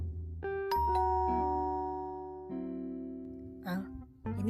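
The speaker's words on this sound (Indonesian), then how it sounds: "bel pintu apartemenku berbunyi" A two-tone apartment doorbell chimes clearly several times in a row, each ding-dong ringing out and decaying, close and alone with no talking.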